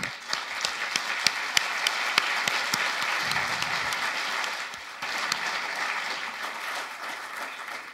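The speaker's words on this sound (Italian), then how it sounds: "Un applauso." An audience at a Basta Euro political rally in Milan claps steadily for several seconds, a dense, sustained round of applause with a few sharper claps near the start.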